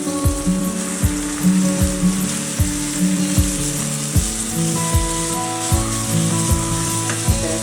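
Vermicelli and roasted peanuts fry in oil in a pan, giving a close, steady sizzle broken by regular scraping strokes of a spatula roughly every half second, with no voices.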